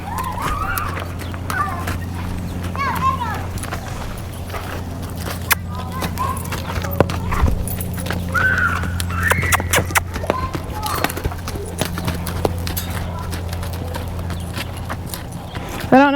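A horse's hooves clop steadily through a walk and into a quicker trot during a cattle herding clinic, with a low engine-like hum running underneath and a person's voice coming and going.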